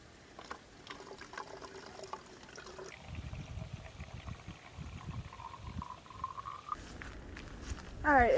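Water trickles and gurgles steadily at a stream along the Appalachian approach trail near Springer Mountain, close by, with a brief louder splash at the end.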